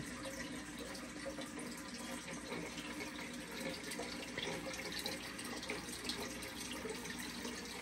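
Water runs continuously in a fish tank in a home garden setting in Ohio. The trickling and bubbling is faint and steady throughout, with no voices.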